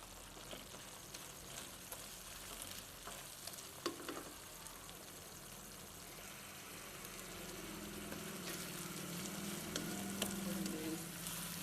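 A steady, dense sizzle of tomato, ginger and garlic paste frying in a hot pan for a liver masala, with occasional stirring scrapes, continuous and close, with no talking.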